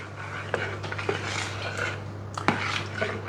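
Condensed milk and peppermint oil stirred together in a bowl for a mint Aero slice, with a spoon clinking and scraping against the bowl in irregular close knocks over a low background hum, with no talk.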